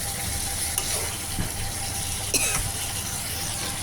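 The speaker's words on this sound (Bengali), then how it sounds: "মাছটা একটু কষায় তারপর ঝোল দিয়া দিব।" Tilapia frying and being stirred in a pan for a fish bhuna, with a steady close sizzle, a few sharp spatula scrapes and clinks on top and no talking.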